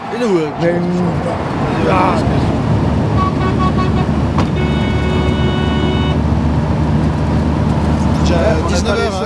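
Car horns honk several times on a busy road, with steady traffic rumble and people talking over it.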